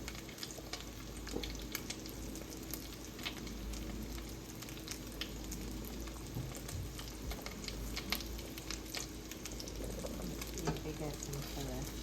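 Potato and cheddar pierogis fry in a hot pan with a steady, quiet crackling sizzle and scattered pops, as more are dropped in and shuffled around.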